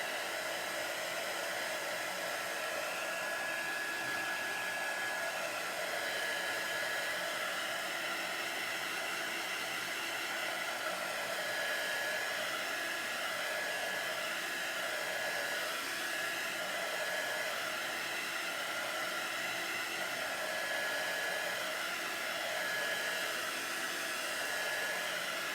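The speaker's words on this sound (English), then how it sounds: "let's hit this with the dryer for a minute" A crafting heat dryer blows continuously at a steady, loud level, a constant rushing whoosh with a faint high whine, no voices.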